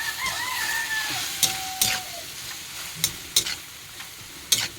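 Squid sizzles and spatters in a hot pan with steady frying hiss, punctuated by several sharp clanks of a utensil stirring against the pan.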